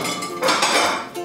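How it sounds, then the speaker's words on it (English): Plates and spoons clink and scrape as dishes are washed by hand at a sink, a few close, bright knocks over running water. "Oh joy, doing some dishes."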